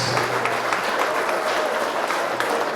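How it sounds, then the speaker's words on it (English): A crowd applauds steadily for Hall of Fame inductees at an induction ceremony, a dense wash of many hands clapping at an even level throughout, with no one speaking over it. "let's give a big round of applause to all the Hall of Fame inductees"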